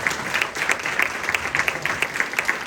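Steady applause from an audience honoring Burton Kelso at a real estate business event, a dense wash of many hands clapping with a few sharper, nearer claps popping out, and no talking.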